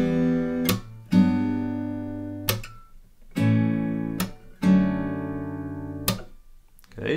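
Fingerpicked acoustic guitar plays the first two measures of a song, a few plucked notes and chords ringing out in separate phrases with short gaps between them, close and clear, with no voice.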